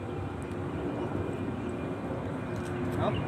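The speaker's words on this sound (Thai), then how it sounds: "นั่นเครื่องบินขึ้นอีกแล้วพี่น้องเห็นปะ" An airplane climbs away from a nearby airport in Taiwan, giving a steady, broad engine roar that holds at moderate loudness and swells slightly toward the end.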